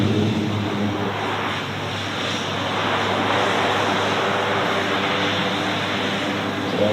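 A C-107 military transport aircraft at an outdoor air show, its steady broadband engine roar loud and continuous, filling the whole stretch without pauses or talk.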